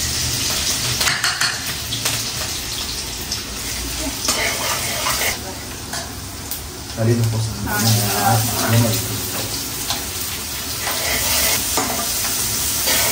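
Finely chopped garlic and chillies frying in a pan for chicken noodles and fried rice, a steady close sizzle with occasional stirring clatter, under intermittent talk.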